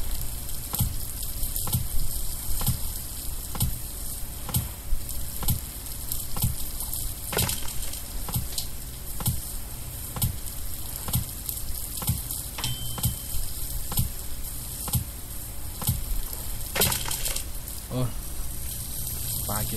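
Fish sizzle over a campfire in the survival video game Stranded Deep, a steady crackling fry beneath regular ticking clicks, with someone talking over it throughout.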